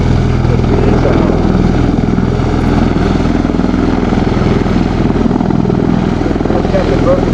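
An MV-22 Osprey tiltrotor at a military airshow gives off a loud, constant rotor roar with pulsing throb that fills the whole stretch, close and powerful.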